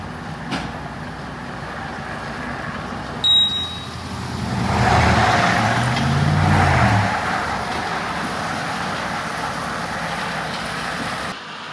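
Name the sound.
Brandt truck moving railway ballast cars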